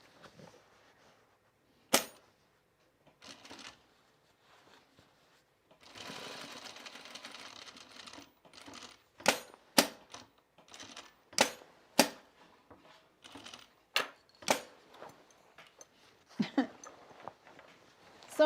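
A sewing machine stitching denim for jeans runs in short bursts separated by pauses, with sharp clacks and thumps between runs, moderately close.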